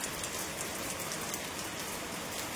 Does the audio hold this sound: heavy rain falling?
yes